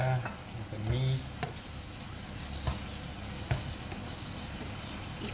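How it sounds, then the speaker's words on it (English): Meat and vegetables for Korean jjajangmyeon sizzle steadily in a hot pan, a dense close frying hiss with occasional stirring scrapes and a faint voice in the background. "before I put in the noodle, I'm gonna cook everything together with the meat"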